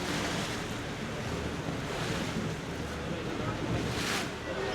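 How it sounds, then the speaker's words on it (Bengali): Rough Sundarbans river water churns and splashes continuously in rain, crossing the Panchamukhani confluence, mixed with gusting wind and a steady background roar; no speech. "দেখো ঢেউ ঢেউ, মারাত্মক ঢেউ কিন্তু এখন। আর এই মুহূর্তে বৃষ্টি হচ্ছে"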